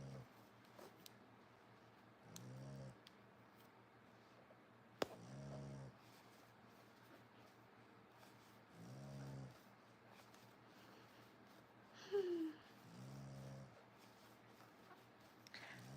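A dog named in passing snores softly nearby, with slow, repeated breaths at roughly three-second intervals rising and falling in a quiet room, plus a brief squeak and some faint handling noises.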